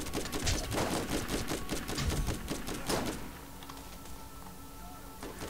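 Rapid gunfire from the video game Borderlands, a dense burst of repeated shots through the first three seconds, then a quieter stretch of low game ambience with faint tones.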